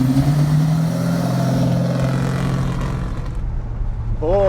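A 1963 Dodge Polara with a MaxHemi V8, built by Boyd Coddington, runs with a loud, deep rumbling idle and throaty revving that drops slightly before a rising whine near the end; a voice is faintly audible beneath.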